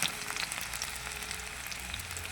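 Vegetables frying in hot oil for chow mein, a brief close crackling sizzle with a dense hiss and scattered tiny pops, steady and unbroken, with no talking.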